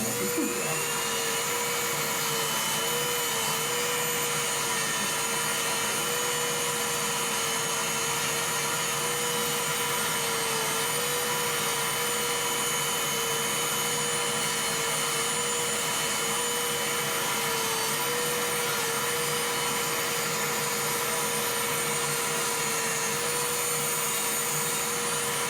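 A podiatry drill buffs down a thick ram's horn toenail, whining continuously at a steady, near, loud pitch with a constant tonal hum and no pauses.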